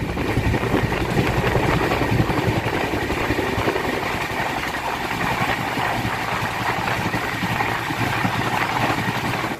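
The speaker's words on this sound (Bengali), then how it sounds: "ট্রেন আমাদের আজিমগঞ্জ ছেড়ে দিচ্ছে।" A night passenger train, the 15959 from Kolkata toward New Jalpaiguri, pulls out of Azimganj station with a constant heavy mechanical rumble and vibration, loud and close throughout with no pauses.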